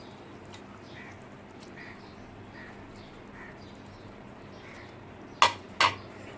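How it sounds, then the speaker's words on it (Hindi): Two quick clinks of metal against a pan ring out near the end as taro-leaf pakoras are added to simmering gravy, over a low steady simmer with faint intermittent bubbling. "अब हम इसमें अरवी के पकौड़े डाल देंगे।"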